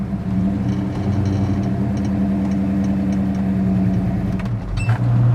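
A 1966 Pontiac GTO's V8 engine rumbles steadily and loudly up close as the car sets off, a deep throbbing idle-to-pull with a slight rise near the end.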